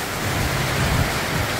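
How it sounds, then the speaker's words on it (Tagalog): Heavy rain pours down with wind, a dense, loud hiss of drops striking surfaces in a brief, unbroken wash. "Ay, ang lakas ng ulan,"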